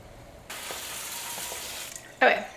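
Canned beans are drained and rinsed under a kitchen tap, a soft steady water rush and splatter running for a couple of seconds, ending with a louder splash.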